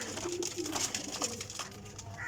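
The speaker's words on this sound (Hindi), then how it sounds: "ए कबूतर छड़िया जी" Pigeons coo softly in a low, continuous murmur, with faint higher chirps over steady background noise.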